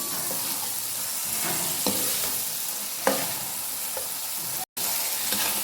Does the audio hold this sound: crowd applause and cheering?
no